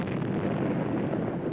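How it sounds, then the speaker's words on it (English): Distant cannon fire during wartime, heard as a sustained low rumbling roar that rolls on steadily with no sharp attack and no voices. "Those dreadful cannons sound like they're coming closer every day."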